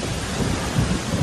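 Heavy rain with rumbling thunder pours steadily in a scene from a Vietnamese historical animated film, a dense continuous wash of downpour with deeper rolls of thunder swelling through it and no talk.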